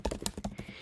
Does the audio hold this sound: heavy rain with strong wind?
no